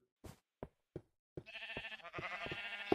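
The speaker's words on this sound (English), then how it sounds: "I thought I had collected all the sheep" Sheep in Minecraft bleat in a few short, separate calls, then a steady tonal in-game hum and music take over with another bleat near the end.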